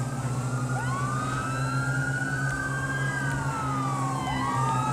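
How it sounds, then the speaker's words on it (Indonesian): A police siren in GTA V wails up and down in long cycles over a steady low engine hum, with a synthetic, game-like quality. "Langsung nyalakan sirine."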